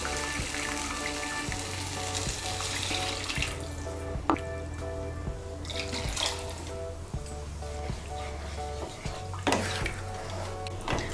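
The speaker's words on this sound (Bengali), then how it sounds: "আমি এর মধ্যে 1 কাপ আর হাফ কাপ গরম জল দিচ্ছি।" One and a half cups of hot water poured into a simmering pan of vegetarian cabbage kofta curry, a steady splashing pour with sizzling under rhythmic background music.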